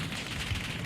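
Gunfire in a Call of Duty match on the Area 99 map, dense and continuous, with shots from an enemy team filling the whole moment loudly.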